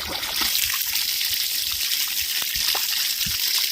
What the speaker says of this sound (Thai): ไม่มีแดด น้ำยัง ไหลอยู่ครับ